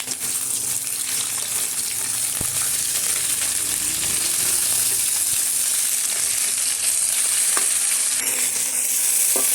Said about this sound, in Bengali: নুন দিয়ে ফোড়ন দিয়ে একসাথে আলুটা ভালো করে ক্রাঞ্চি করে ভাজা করবো